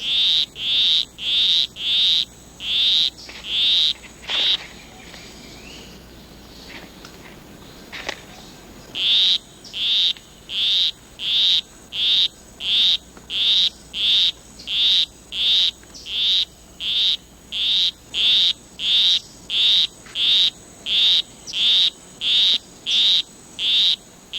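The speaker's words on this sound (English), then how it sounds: "A male poison arrow frog is courting a female. With his monotonous song, he will try to entice her to follow him under a leaf" A male poison arrow frog in a rain forest repeats a monotonous high buzzing courtship call, regular pulses in a steady rhythm with one short pause, loud and close.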